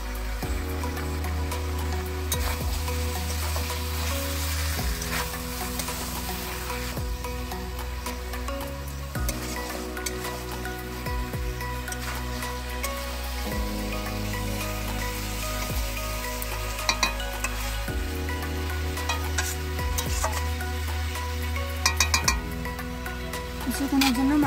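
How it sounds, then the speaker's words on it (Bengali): Mutton pieces being fried and stirred with meat masala for a spicy Bengali kosha curry, a steady loud sizzle with scraping stir strokes throughout, shifting tones as the pan is worked, and a voice talking over it. "মাংসটাকে কষিয়ে নেব। এখন আমি দিয়ে দেবো মিট মশলা।"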